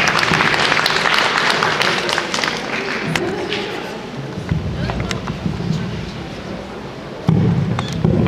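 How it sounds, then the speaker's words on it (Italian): Audience applause at a conference on violence against women: a continuous, close wash of clapping mixed with crowd rumble and some talking, fading slightly before a louder surge near the end. "Facciamo un applauso,"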